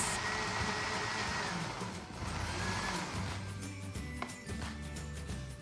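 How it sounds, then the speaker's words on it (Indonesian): A kitchen blender whirs continuously while puréeing pandan leaves, suji leaves and coconut milk, a steady close motor drone with slight shifts in pitch as the mixture churns. "Selanjutnya kita blender sampai halus."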